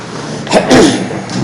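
A single sudden sneeze bursts out during a county commissioners court meeting in a room with steady background hum, a short sharp burst of breath, loud and close.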